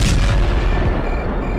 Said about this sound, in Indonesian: tiba-tiba terdengar suara ledakan dari depan rumahnya